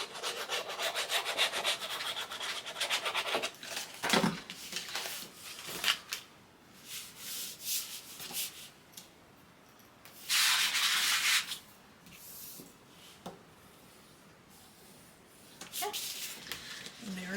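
A paper tab in a scrapbook album is rubbed firmly with a burnishing tool, giving bursts of close, dry scraping strokes separated by quieter handling rustles.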